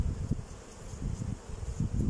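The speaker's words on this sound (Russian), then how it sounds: "Пчелка очень кружится, чужая." A honeybee drones in low, wavering pulses as it circles near a hive while May honey is being extracted, quiet and close, with a soft rustle of wind.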